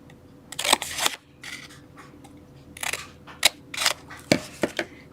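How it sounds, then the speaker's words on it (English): Scissors snip along score lines on a paper or card box, giving several sharp, close cutting crunches in uneven bursts separated by brief quiet gaps. "You're going to cut up the score lines."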